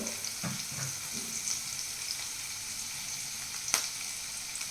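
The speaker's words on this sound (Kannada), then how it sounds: "ಚೆನ್ನಾಗಿ ಫ್ರೈ ಆಗಬೇಕು" Ingredients frying in a pan for Bombay bonda, a steady close sizzle with a few clinks and stirring scrapes, one sharp knock near the end, no talking.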